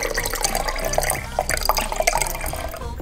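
Water steadily poured into a bottle to make yeast water for a sourdough starter, a continuous trickling and splashing with small gurgles that lasts the whole three seconds and has no voices over it.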